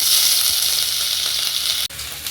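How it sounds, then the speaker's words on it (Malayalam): Crushed ginger pieces frying in hot ghee, a loud, close, continuous sizzle with a brief sharp knock near the end, no voices. "അതിലേക്ക് നമ്മൾ ചതച്ച് വെച്ചിരുന്ന ഇഞ്ചി കഷ്ണം ഇങ്ങനെ വെറുതെ അങ്ങോട്ട് ചതച്ചാൽ മതി"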